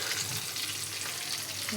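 Fish frying in a pan produces a soft, steady sizzle with bubbling crackle throughout a short stretch, without talk.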